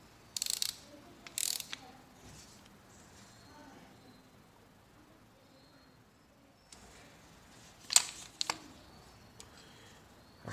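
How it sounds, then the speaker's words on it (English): Wrench ratcheting while tightening bolts on a Royal Enfield motorcycle engine: faint clicking bursts in two short clusters with quiet pauses between, close by. "Tightening up all the bolts properly."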